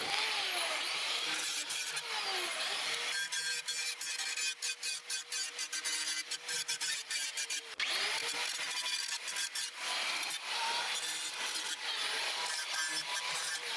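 A power tool, likely a grinder or wire brush, stripping paint down to bare sheet metal on the cutting deck of a Husqvarna YTH150 ride-on mower; a loud, continuous abrasive whirring that pulses and rasps steadily, with a short break midway.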